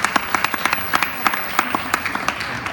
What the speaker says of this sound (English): Warm applause for Hans Stem.